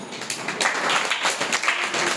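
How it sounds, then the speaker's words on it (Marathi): A small audience at a children's prize distribution ceremony claps for a third-place winner, a scattered, moderately loud patter of hands that rises and holds for a couple of seconds. "टाळ्या"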